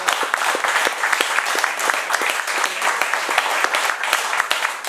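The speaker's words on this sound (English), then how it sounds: "Let's give him a big round of applause" Steady applause from a room of people at a company general meeting, dense and continuous clapping filling the space for several seconds with a few sharper claps standing out.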